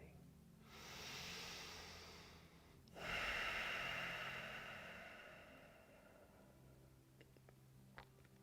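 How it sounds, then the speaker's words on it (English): Two long, deep breaths, a slow inhale then a longer, airy exhale, close and hissing in a quiet room. "And long, deep breathing."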